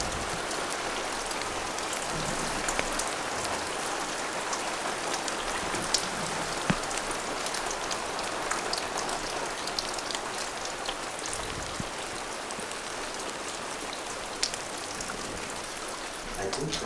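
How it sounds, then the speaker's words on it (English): Steady rain patters on a roof nearby in the mountains, with scattered louder drips standing out against the continuous hiss. "And it's raining."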